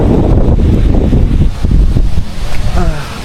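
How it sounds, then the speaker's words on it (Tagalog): Strong gusty wind blows at sea, roaring and buffeting the microphone loudly and continuously, with a brief voice near the end. "Medyo lumalakas ang hangin ngayon oh."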